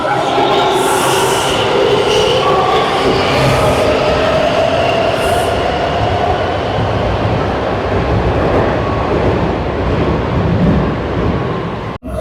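A Washington DC Metro train rumbles loudly and steadily into a station, wheels and motors droning with a high whine overhead, continuous for the whole stretch.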